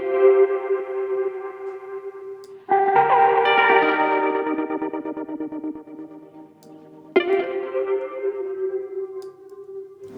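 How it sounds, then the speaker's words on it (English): Synth phrase from Output Arcade shaped by macro effects, played as sustained tonal chords with echo and distortion, loud and alone, with two sharp re-attacks partway through. "play around with the macro effects to dial in a sound that I like"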